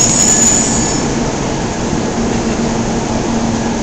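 A Shinkansen bullet train pulls into a station in Osaka, Japan, making a loud, steady rushing roar with a faint high whine that fills the whole moment.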